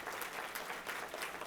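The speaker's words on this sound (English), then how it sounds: "Y'all give them a round of applause." Brief, faint applause from attendees at a mayor's small business conference honouring an economic development team, a soft steady patter of clapping.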